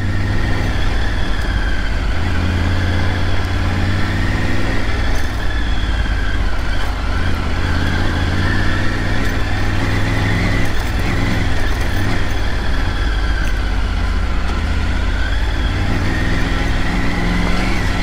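Triumph Tiger 900 Rally Pro motorcycle ridden off-road, its engine a steady, loud, continuous drone with a low throbbing hum and broad wind-like noise throughout, holding fairly constant without pauses.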